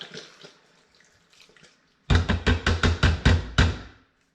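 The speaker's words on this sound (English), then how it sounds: "I got a can of coconut milk going in the whole way" Coconut milk emptied from a can into an Instant Pot, a few soft glugs giving way to a rapid run of loud gulping splashes, then a sudden stop.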